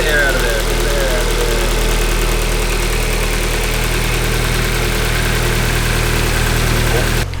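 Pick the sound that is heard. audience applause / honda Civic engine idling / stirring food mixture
honda Civic engine idling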